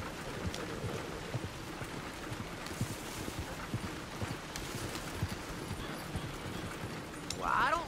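Horse hooves clip-clopping on a road in Red Dead Redemption 2, a steady mid-distance patter of steps running through the whole stretch beneath game ambience, with a brief louder rustle near the end.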